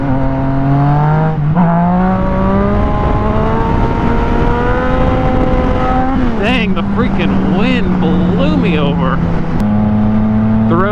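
Yamaha FZ09 motorcycle engine revving hard in third gear, a loud continuous engine note rising steadily in pitch, then a gear change around six seconds followed by fluctuating revs, with wind buffeting throughout.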